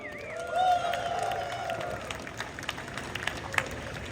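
A crowd applauds at the IAAPA Expo, brisk clapping with a few cheers that thins out over a few seconds, fairly close and moderately loud.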